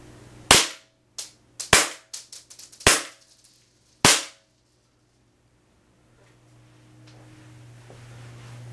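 Several sharp gunshots fired at a target, a quick burst of four or five loud cracks with a few fainter pops between them, then quiet with a low steady hum and rising background noise.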